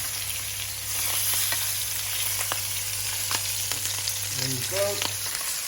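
Boal fish sizzles steadily as it fries with spices in a hot pan, loud and close, with scattered pops and a brief clatter as it is flipped; a voice speaks briefly.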